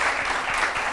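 A studio audience at a television talk show breaks into brief, dense applause, a steady wash of clapping that fills the whole moment with no pauses.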